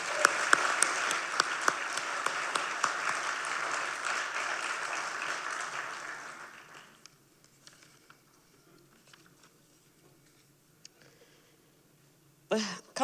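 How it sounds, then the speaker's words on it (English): An audience at a State of the City 2023 address applauds departing city councillors, with dense clapping for about six seconds that then thins out into a few scattered claps. "So let's applaud them as well."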